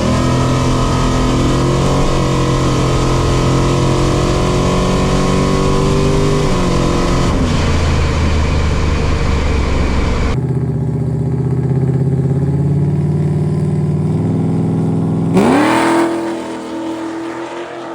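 A drag race car drives back along the strip after a quarter-mile pass, its engine a loud, continuous drone with shifting pitch, easing off and then revving up again before fading at the end.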